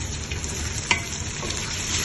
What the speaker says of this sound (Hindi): इसके साथ मैं 2 मिनट के लिए ना इसको ना फ्राई करूँगी